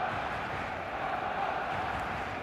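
Football stadium crowd noise from a video game match, a steady dense roar of many voices holding at an even level with no distinct calls standing out.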